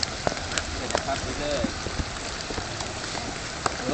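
Rain falling at an outdoor fishing park in Chiang Mai, a steady soft patter with scattered drips and taps, fairly faint, with voices and movement in the background.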